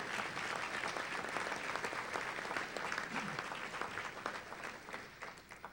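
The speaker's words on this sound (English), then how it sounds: "ladies and gentlemen, let's give them a round of applause." An audience at a sports hall of fame induction ceremony breaks into a sustained round of applause, dense clapping that fills the room and tapers slightly toward the end.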